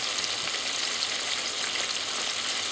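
Steady, dense sizzle of fish frying in hot oil, constant and close, with no pauses or voices.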